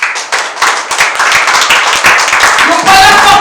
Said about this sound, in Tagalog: Palakpakan po natin ng Panginoon.